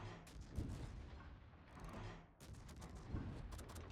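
Gunfire in a strategy video game, several faint sharp shots and booms spaced across a few seconds at low volume, with no talking.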